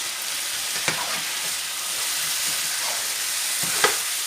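Beef and carrots sizzle steadily in a pan with balsamic vinegar, a constant close frying hiss broken by a few sharp scraping knocks as a utensil stirs.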